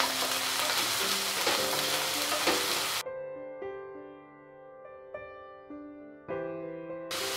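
Small cubes of a peeled large potato cook in a pan with a bright, crackling sizzle for about three seconds before soft, steady musical tones take over, with only brief hints of frying later.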